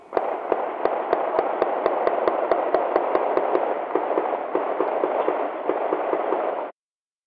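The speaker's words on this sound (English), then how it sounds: "the ShotSpotter heard these gunshots" Gunshots picked up by a ShotSpotter acoustic sensor: a rapid, evenly spaced string of sharp bangs over a steady roar of noise; the bangs stop after a few seconds while the noise carries on.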